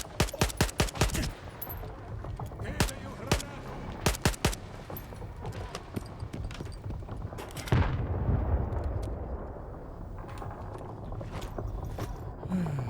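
Rapid gunshots crack in quick bursts in the video game Stalker 2, then a rumbling blast and a steadier roar, with a few more distant shots later.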